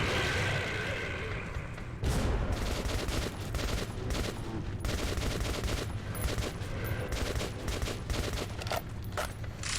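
Grenade blast and gunfire in the Metro 2033 shooter game, a loud burst followed by rapid, dense volleys of shots continuing throughout.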